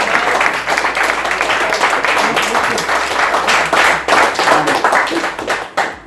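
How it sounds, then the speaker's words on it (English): A dinner crowd at a cricket club's winter cup gathering claps in a lively, close round of applause that stays fairly loud and dense for about six seconds before tapering off. "So I think a little round of applause for."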